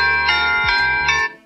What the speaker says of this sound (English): You can also choose a doorbell sound. So mine's on default, which sounds like that